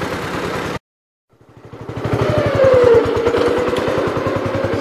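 A 1981 Gravely 8122 tractor engine starts up after a short silence and runs steadily with a dense, rhythmic low-pitched chug and mechanical clatter, close and loud, rising slightly in pitch as it revs.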